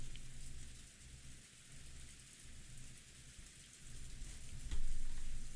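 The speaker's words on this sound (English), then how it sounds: "Only the gentle sound of the rain continues." Steady rain falls in a Hinamizawa video game scene, a soft, even hiss throughout, swelling near the end with a low rumble that suggests thunder.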